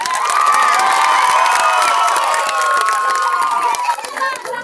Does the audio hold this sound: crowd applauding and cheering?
yes